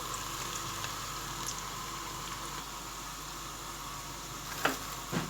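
Onions frying to a light brown in a pan give off a steady, gentle sizzle. Near the end, two brief scraping knocks come from a spoon stirring them.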